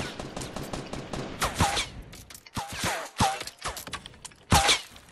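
Rapid sniper and rifle gunfire in Fortnite, several sharp cracks with ringing tails spread across the moment, some loud and close, others quicker and thinner in the distance.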